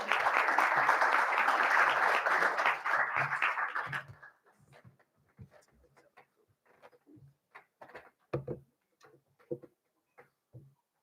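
An audience breaks into loud, dense applause for a presenter at a morning conference session, sustained for about four seconds before fading into scattered room noise, shuffling and faint taps.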